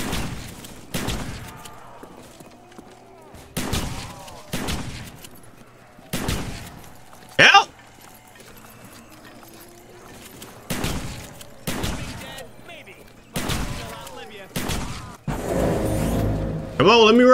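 A shotgun fires in a video game as a string of loud, separate blasts with pauses between them, mixed with other game sounds, a couple of sharp effects and someone talking in between.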